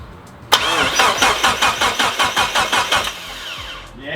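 Mitsubishi EVO engine cranking over without fuel, the starter churning in a steady rhythmic pulse of about a dozen compression strokes and never catching, loud and close, then winding down.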